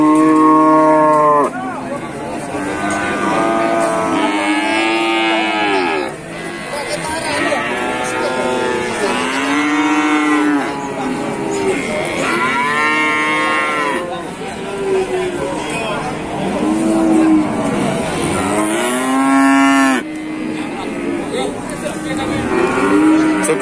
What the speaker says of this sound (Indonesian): Suasana pasar sapi di Kabupaten Ngawi.